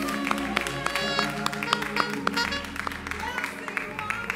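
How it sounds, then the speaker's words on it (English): A church congregation breaks into applause at a youth and young adult day service, a dense patter of clapping heard alongside a voice. "Let's give another round of applause to our youth and young adults."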